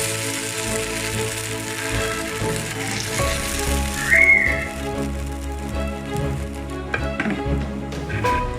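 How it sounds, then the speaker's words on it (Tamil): Thick adai dosa batter sizzles on a hot dosa griddle, a steady close crackle with a brief whistling tone partway through and no talking. "தோசைக்கல் நல்லா ஹீட் ஆனதும் நம்ம தோசை ஊற்றிக்கலாம்"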